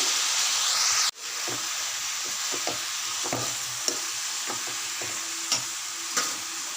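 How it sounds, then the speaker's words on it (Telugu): Chopped tomatoes, three medium ones, drop into bottle gourd pieces frying for a Telugu sorakaya pachadi, followed by steady sizzling and intermittent spoon stirring with light scraping taps, close and continuous. "సొరకాయ ముక్కలు ఇలా కొద్దిగా వేగినాక ఒక 3 మీడియం సైజ్ టమాటాలు ఇలా కట్ చేసి వేసుకోవాలి"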